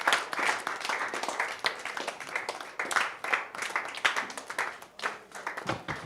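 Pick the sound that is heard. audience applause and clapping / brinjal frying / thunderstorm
audience applause and clapping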